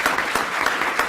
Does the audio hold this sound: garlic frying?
no